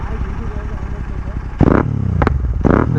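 Loud exhaust bursts from a motorcycle, an Aprilia RS 457 or GT 650, two sharp crackling blasts standing out over steady engine rumble and talking voices.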